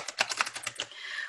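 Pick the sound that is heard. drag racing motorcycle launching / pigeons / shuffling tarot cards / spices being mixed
shuffling tarot cards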